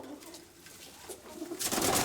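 Soft pigeon cooing in the background, low and murmuring, with a rush of fluttering and rustling noise growing near the end.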